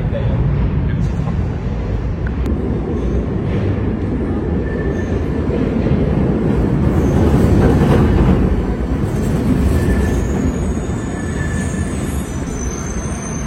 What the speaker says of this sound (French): Il arrive d'ailleurs, le petit train.